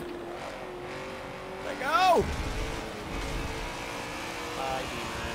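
A 6.4 liter V8 drift car in Forza 7 drones under a man's speech, with a sharp revving sweep as the engine climbs and drops mid-slide before settling back to a steady hum.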